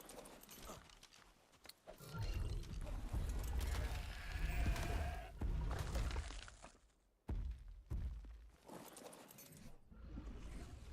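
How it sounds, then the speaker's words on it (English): An ovis, a sheep in ARK: Survival Ascended, bleats on the Extinction map amid layered game effects and a brief crash, fairly quiet overall with a sudden drop near the end. "An ovis!"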